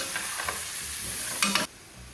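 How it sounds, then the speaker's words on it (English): Red wine poured into a hot pan for Amatriciana sauce, sizzling and bubbling under stirring, with a brief louder burst of scraping and hiss near the end before settling to a low simmer. "Now deglaze the pan with the wine. Let it boil off."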